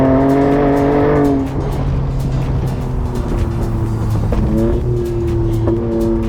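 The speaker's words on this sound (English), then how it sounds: "You've got that awesome exhaust tone, which I'm sure you can hear for miles through the trees here" A deep, rumbling 2023 Ford Raptor pickup truck exhaust note drones steadily close by among trees, with the pitch dropping as the engine settles after a brief rise.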